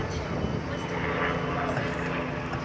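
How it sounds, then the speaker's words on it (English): Steady, continuous drone of a helicopter flying overhead near London Charing Cross railway station, a broad rumbling engine and rotor wash that fills the whole moment without fading, loud and close. "Helicopter."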